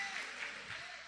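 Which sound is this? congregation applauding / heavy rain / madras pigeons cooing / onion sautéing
congregation applauding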